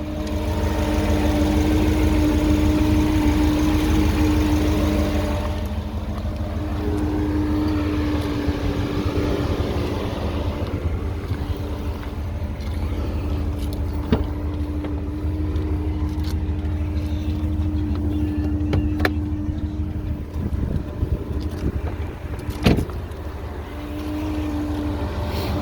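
A 2011 Ford Raptor 4WD with the 6.2-liter engine idles steadily, a low, even rumble with a faint hum that holds for the whole stretch, with a few small clicks and knocks near the end.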